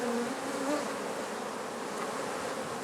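Honey bees buzz in a dense, continuous swarm drone during a honey harvest, steady and fairly close throughout with no talk.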